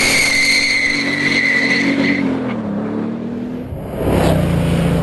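A Bugatti Veyron Super Sport accelerating hard in a straight line, a loud rising engine roar that shifts pitch, drops away briefly, then surges again, heard close from inside the car with no talking.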